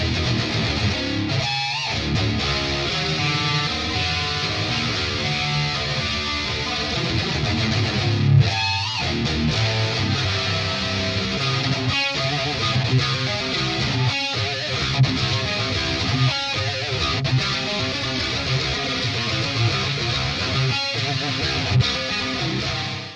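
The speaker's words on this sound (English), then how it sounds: "We have the doubler effect." A thick, distorted electric guitar with a doubler effect plays continuously with a doubled, widened tone, loud and steady with brief pauses between phrases.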